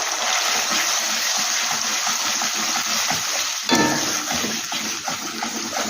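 Tomatoes sizzling and frying in a hot pan during home cooking of a lau muitha dish, a loud steady crackle with a stirring clatter partway through.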